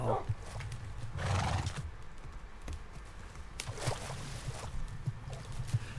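In the Minecraft video game, a horse whinnies and its hooves clip-clop in uneven bursts. The sounds are fairly quiet and close, with a few sharp neighs standing out over the hoof steps.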